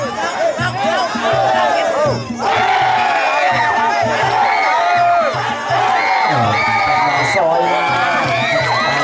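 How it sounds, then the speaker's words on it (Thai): A dense crowd at a Muay Thai fight in Thailand cheers and chants loudly and continuously, with rhythmic shouted surges and whoops throughout, and a commentator's voice runs underneath. "เชียร์จากวังหิน"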